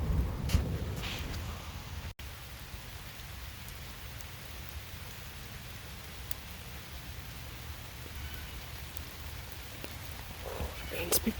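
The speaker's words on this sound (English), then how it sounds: "Rain's picked up again." Steady rain falls outdoors during a thunderstorm, a constant hiss with occasional drips and a faint low rumble, quiet and even throughout.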